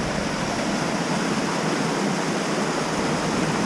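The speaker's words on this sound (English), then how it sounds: "one lake just kind of drains into another lake, and then this lake drains into the next one down there." Water draining from one lake into the next in the Sixty Lakes Basin of Kings Canyon National Park, a loud steady rushing roar like a small waterfall, close and unbroken.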